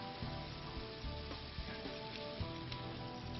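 Chicken stock poured into a sizzling pan of burger picadillo, a steady close sizzle and frying hiss running throughout with a few soft stirring knocks.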